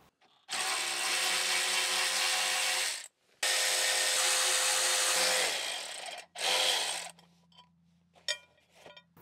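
Power tool, likely an impact driver or drill, backing out 13 mm bolts from the skid plate under a Mercedes Sprinter van, heard in two long loud runs followed by a shorter burst, then small clinks with no talk.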